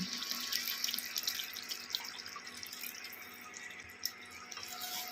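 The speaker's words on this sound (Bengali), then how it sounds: "এবার এর মধ্যে এই রতন জোতটা ভেজানো ছিল এর জলটা দিয়ে দিচ্ছি" Ratan jot soaking water poured into a pot of Kashmiri mutton rogan josh, a steady soft trickling splash running the whole time with a few faint drips, no talking.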